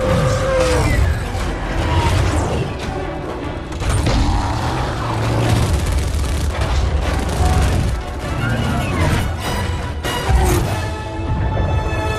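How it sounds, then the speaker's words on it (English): Archer missile strike explosions from an action movie: loud, dense booms and crashing blasts rolling over one another continuously, with a heavy low rumble and scattered debris crashes throughout. "Archer missiles inbound."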